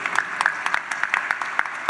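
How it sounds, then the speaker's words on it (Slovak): Audience applause at an award ceremony for a regional innovation competition, a steady wash of many hands clapping at moderate volume, evenly sustained throughout with no voices over it. "A veľký potlesk poprosíme."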